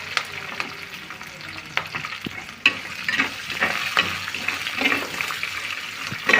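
Green chilli and garlic frying in a pan, a steady crackling sizzle with scattered louder pops and scraping stirs throughout, close and fairly loud, no voices.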